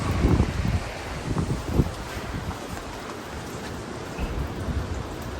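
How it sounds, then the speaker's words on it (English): Wind and wet rain at Lydford Castle ruins in Cornwall, a steady broadband rush with gusty low rumble from wind buffeting the microphone, louder at the start and again near the end. "it's very windy and wet today"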